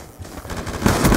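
Gunfire from Call of Duty Black Ops 2, a video game, during a headshot: a quick burst of loud, rapid shots building in intensity over about a second, with no talking.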